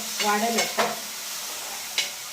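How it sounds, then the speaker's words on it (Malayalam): Tomatoes being stirred and sautéed in a pan on a small home kitchen stove, with a few scraping stirs and a gentle sizzle underneath, close and fairly loud, no talking. "ഒന്ന് ഇളക്കി ഒന്ന് ചെറുതായിട്ട് വഴന്ന ശേഷം തക്കാളിപ്പഴം കൂടെ അങ്ങോട്ട് ഇട്ട് കൊടുക്കുകയാണ്"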